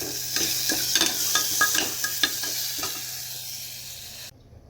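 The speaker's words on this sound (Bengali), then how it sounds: "দুপুরবেলা খেতে বসার আগে মাটনটা গরম করে দেয়" Leftover mutton being reheated in a pan sizzles and fries steadily, with a series of spatula scrapes and stirring clatters over a constant low hum, the noise cutting off abruptly near the end.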